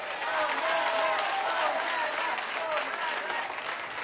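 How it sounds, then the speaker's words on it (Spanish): A crowd applauds teachers of Mérida at a government ceremony, dense sustained clapping from many hands that stays loud and even throughout, with some voices mixed in. "Un aplauso a los maestros de Mérida."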